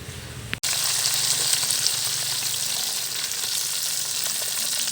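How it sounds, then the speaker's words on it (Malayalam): Ground fenugreek drops into boiling coconut oil, setting off a sudden loud, steady sizzle that continues close up without pause and with no talk. "വെളിച്ചെണ്ണ നന്നായി തിളച്ച് വരുമ്പോൾ ഇതിലേക്ക് അരച്ച ഉലുവയും ഇട്ട് കൊടുക്കാം"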